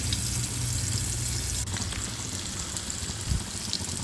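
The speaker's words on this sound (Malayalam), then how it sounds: "ഇനി നമുക്ക് മാന്തള മീൻ ഫ്രൈ ചെയ്യാം കുറച്ച് ഓയിൽ ഒഴിച്ചു കൊടുക്കട്ടോ ഓരോന്നായി വെച്ചെടുക്കാം" Manthal sole fish frying in oil in a pan, a steady dense hiss of sizzling oil with a couple of faint clinks, close and even throughout.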